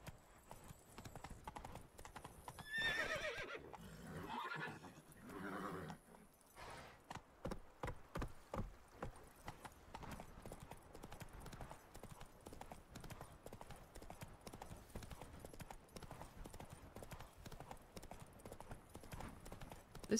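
Hooves clip-clop in a quick, steady rhythm as Roach, the horse in The Witcher 3, is ridden across the landscape. A brief neigh or whinny sounds near the start, and the hoofbeats stay close and clear throughout.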